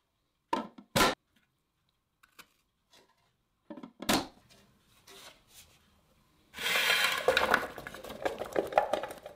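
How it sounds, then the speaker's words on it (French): Potatoes being peeled and cut into fries by hand: scattered sharp knife clicks and scrapes on a board with quiet gaps, then a sustained stretch of rough rasping peeling or chopping, close and fairly loud. "Épluchez puis coupez vos pommes de terre en forme de frites."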